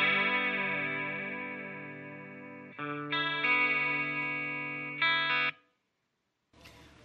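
Clean electric guitar run through a chorus effect, several chords strummed one after another with a slight shimmering wobble as they ring, then a brief pause and a final scratchy strum, close and without talk.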